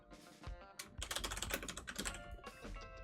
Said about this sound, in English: But as you type, it'll automatically save, just like the manuscript editing app does.